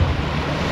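Sea waves wash steadily onto Matabungkay Beach in Batangas, a dense continuous rush of surf mixed with wind noise and no talking.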